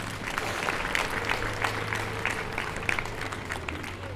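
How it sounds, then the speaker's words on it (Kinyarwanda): Sustained crowd applause with ululation at a church gathering honouring priests who accompanied children on a pilgrimage, a dense steady roar of clapping throughout. "mubampera amashyi menshi n'impundu"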